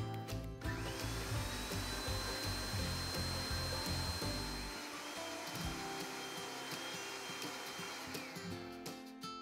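An electric blender whirs loudly, grinding thick coconut chutney for Parsi steamed fish, a steady motor drone that rises in pitch, then winds down near the end.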